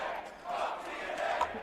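A crowd at a TNA wrestling event shouts in unison, a dense roar of many voices with a couple of rising chant-like swells, moderately loud throughout a brief burst.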